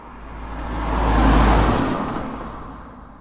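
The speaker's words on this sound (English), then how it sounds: "let's see if we can see some cars coming by here" A car passes by on a road, its rumble swelling from a distance to a loud close pass around the middle and then fading away, no voices.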